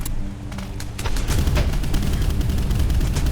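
Rapid bursts of gunfire in a naval battle game crackle in dense, overlapping volleys over a heavy low rumble, continuous and loud with no talk.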